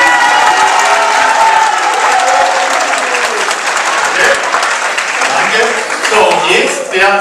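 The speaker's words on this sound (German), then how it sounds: "jetzt darf man zuerst einmal abstimmen mit Applaus" A crowd at a line dance contest applauds and cheers to vote for a winning team, with dense, sustained clapping that fills the whole stretch at steady loudness.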